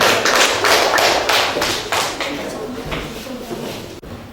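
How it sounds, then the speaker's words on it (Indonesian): Classroom applause from a group of students after a group presentation, a loud, dense burst of many hands clapping together that gradually thins and fades over a few seconds, with no talk over it. "Tepuk tangan semuanya."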